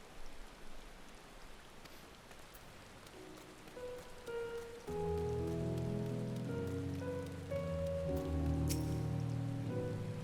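Steady rain falls in the video game Final Fantasy XIV: Endwalker, a soft hiss at first that thickens at about the midpoint into a fuller, louder patter over a low droning tone.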